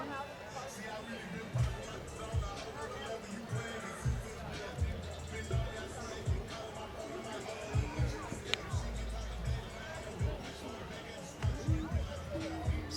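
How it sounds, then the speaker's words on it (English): Large crowd at a night Little League baseball game at Cactus Yards Park, a steady murmur of spectator chatter with scattered thumps and bursts of activity throughout. "It's a large crowd here tonight at Cactus Yards Park, Ebbets Field."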